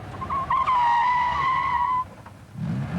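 A fast-driven car brakes hard, and its tires squeal loudly for about a second and a half with a wavering high-pitched skid before it cuts off, leaving low road rumble.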